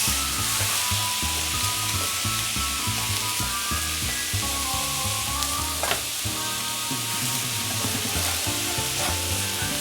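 Meat fries loudly in a hot frying pan for fried rice made from leftovers. The sizzle is dense and continuous, with scraping stirring strokes running through it.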